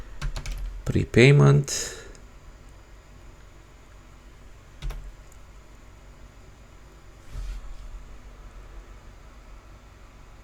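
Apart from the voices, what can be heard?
typing on a computer keyboard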